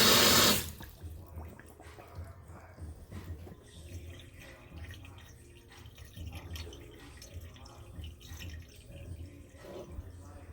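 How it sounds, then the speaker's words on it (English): Water runs into an IKEA sink and gurgles down the drain, a low churning rumble with trickles and drips continuing throughout after a brief louder splash at the start. "it's draining a little better now"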